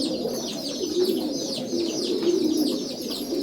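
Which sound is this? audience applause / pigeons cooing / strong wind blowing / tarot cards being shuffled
pigeons cooing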